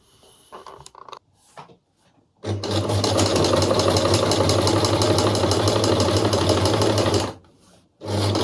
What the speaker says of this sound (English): we're going to press the seam up and then sew it down